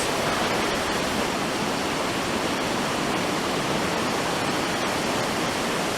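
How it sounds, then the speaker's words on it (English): The Blackstone River flowing outdoors, a loud, constant broadband rush of moving water with no break or talking. "This is the Blackstone River right in front of us."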